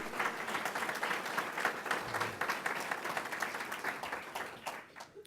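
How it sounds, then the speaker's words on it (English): An audience at a chamber of commerce gathering applauds Bob Bartz, a dense, even burst of many hands clapping from across the room that holds for about five seconds before thinning out. "I want to give Bob Bartz a big round of applause for all he does."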